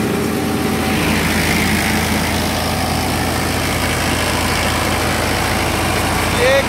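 A Sonalika 60Di four-cylinder tractor engine, rated around 55 HP, idles cold at about 1500–1600 rpm with a steady, unbroken low rumble that stays loud and close for the whole stretch.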